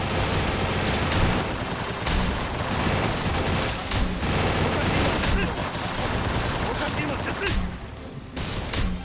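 Rapid automatic gunfire in the Free Fire video game during a ninja-versus-zombie boss fight, loud dense bursts firing almost continuously, easing briefly near the end before resuming.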